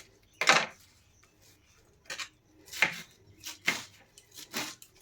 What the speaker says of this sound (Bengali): এখন এগুলো আমি কুচিয়ে নেব ছোট ছোট করে।